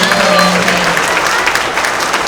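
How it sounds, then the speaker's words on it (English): Students and families at an elementary school award assembly applaud perfect attendance honorees; the steady, loud clapping is briefly joined by a faint voice near the start. "Let's give them a round of applause."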